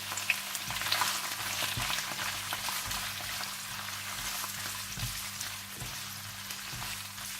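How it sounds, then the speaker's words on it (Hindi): Prawns frying in hot oil for paella, a steady close crackle and sizzle with soft stirring scrapes and a low constant hum underneath, no voices. "इसमें प्रॉन्स को डालकर 4 से 5 मिनट के लिए फ्राई कर लें"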